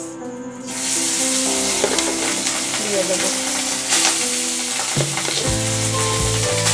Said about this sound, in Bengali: অল্প অল্প করে ঘি দিয়ে হাফ টেবিল স্পুন করে ঘি কড়াই দিয়ে মেশানো রাইস